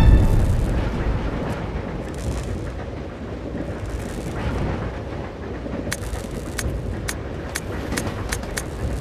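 A runaway train derails and crashes in Resident Evil 0, a heavy continuous low rumble and roar with sharp metallic clanks and impacts toward the end.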